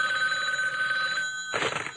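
A telephone rings with a bright, steady electronic trill for about a second and a half, then cuts off into a short burst of noise, heard alone and fairly close.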